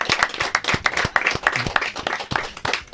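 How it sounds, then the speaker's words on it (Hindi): An audience gives sustained, dense applause for actor Annu Kapoor at a birthday show event, many hands clapping loudly and steadily throughout with no break. "जोरदार तालियां।"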